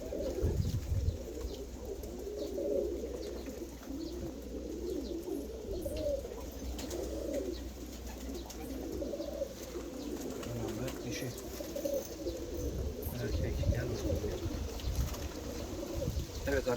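Hungarian pigeons coo in a loft, a continuous chorus of soft, overlapping throaty burbles close by with some low background rumble and no break throughout.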